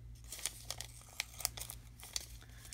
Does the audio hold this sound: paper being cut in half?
yes